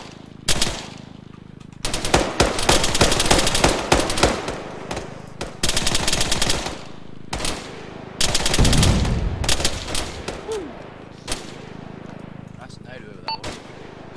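Gunfire in a military video game, long loud bursts of rapid automatic fire with single shots and a heavy boom in between, while players talk over it.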